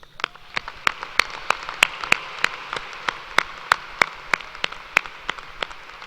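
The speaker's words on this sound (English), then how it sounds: "Please join me in applause to acknowledge the scholastic achievement of all of these students." An audience applauds at a 2016 university spring commencement ceremony, with a steady wash of distant clapping and one nearby pair of hands clapping sharply in an even rhythm.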